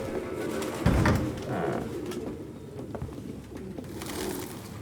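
Pigeons or doves coo repeatedly in an indoor scene of the video game Detroit: Become Human, the soft, low calls steady and fairly close, with no one speaking.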